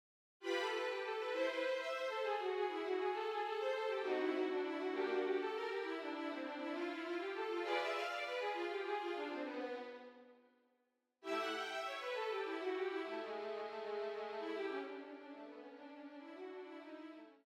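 Orchestral scherzo sketch played back in its final segment: full ensemble with sustained strings and moving melodic lines, continuous and loud for about ten seconds, a brief break, then the music resumes and runs to the end, no talking.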